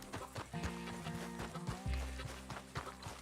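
A horse in Red Dead Redemption 2 clip-clops in a quick rhythm of hoof strikes, heard over a steady background of game music.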